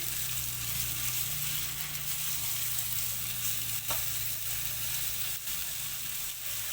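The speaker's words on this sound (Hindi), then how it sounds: "अब हम अंडे को पका लेंगे।" Eggs fry in a pan over medium heat for egg fried rice, a continuous close sizzle with occasional stirring scrapes and one sharp clink near the middle, no talking.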